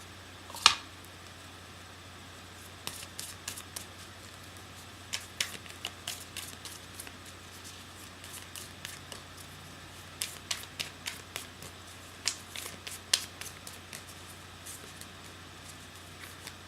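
Tarot cards being shuffled by hand for a healing card pull, with crisp riffling bursts and scattered sharp card snaps and taps recurring through a quiet room, close and fairly soft.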